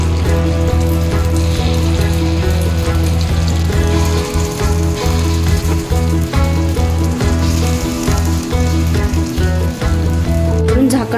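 Rice appe batter sizzles in a hot, oiled appe pan, a dense continuous crackling fry heard up close and loud, with faint clinks and a low steady hum beneath.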